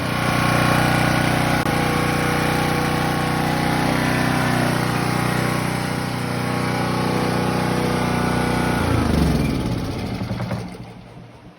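A Champion dual fuel generator engine runs with a loud, steady drone up close, then winds down and fades out near the end.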